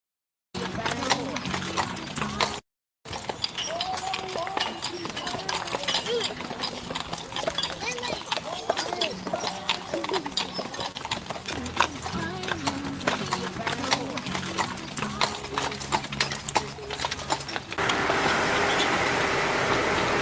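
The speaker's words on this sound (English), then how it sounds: "They were brought in by the white horses and the carriages, yo." Horse hooves clip-clop steadily as white horses pull funeral carriages through a street procession, with occasional whinnies, a busy outdoor crowd and voices talking throughout.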